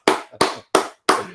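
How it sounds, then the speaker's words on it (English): Four sharp hand claps, close and loud, spaced about a third of a second apart, with nothing else heard. "Clap it up."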